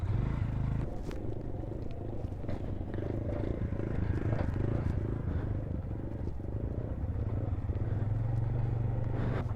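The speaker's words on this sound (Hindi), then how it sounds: "मोटरसाइकिलें गर्म कर लें क्योंकि मोटरसाइकिल होगी ठंडी।" Motorcycle engines idle and warm up in the cold, at about -5 degrees, as a steady low rumble and clatter that runs unbroken near the listener.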